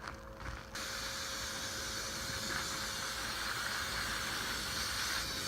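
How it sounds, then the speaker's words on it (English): A steady hiss of water spraying from a hose nozzle onto garden soil, starting after a brief moment and continuing evenly and close by. "And then spray it down."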